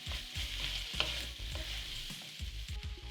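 Tomatoes deglazing a hot pot with toasted paste for one-pot chicken and sweet potato soup, a soft bubbling sizzle with repeated scraping stirs along the bottom, fairly quiet.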